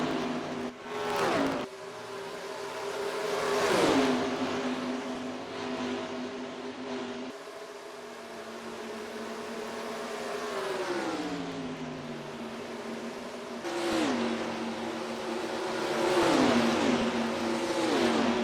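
Stock-car engines in NASCAR Racing 2003 at Darlington scream past in repeated high revving sweeps, pitch rising and dropping as cars pass close by, with a steady drone of more engines filling the gaps.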